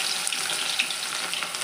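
Chopped onions hit hot oil with mustard seeds in a pan for vegetable pulao, giving a loud, even, close-up hiss of frying that holds steady throughout.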